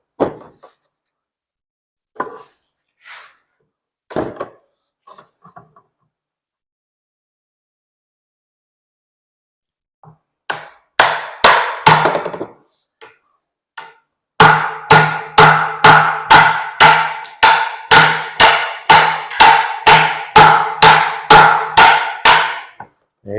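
Hammer taps drive a custom driveshaft part for a 1950 Chevy into place, starting with a few scattered light knocks, then a burst of blows and finally a long, steady series of sharp, loud metallic strikes.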